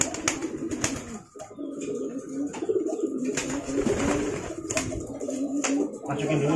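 A racing pigeon on its first training flight gives repeated soft, throaty coos nearby, mixed with rustling and background noise.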